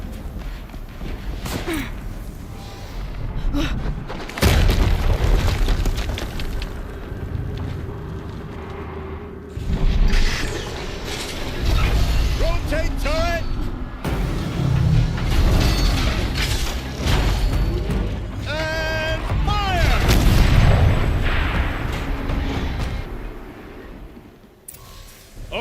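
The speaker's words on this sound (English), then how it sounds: "Another explosion." Explosions rumble in the Horizon Zero Dawn video game, with heavy booms and low rumbles recurring through a dense mix of game effects, mechanical clanks and creature cries, loud and sustained.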